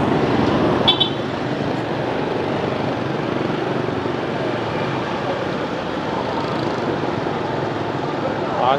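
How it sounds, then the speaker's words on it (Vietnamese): Heavy traffic jam at the Điện Biên Phủ intersection on Pasteur Street in Saigon: a steady, close roar of engines with a short car horn toot near the start and more honking blended into the din. "kẹt xe nữa rồi."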